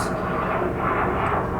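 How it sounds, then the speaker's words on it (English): A passenger jet landing at SeaTac airport drones overhead as a steady, broad engine roar, fairly loud and unbroken with no talk. "Pardon the plane in the background, because planes landing from SeaTac, you can hear them sometimes in the background."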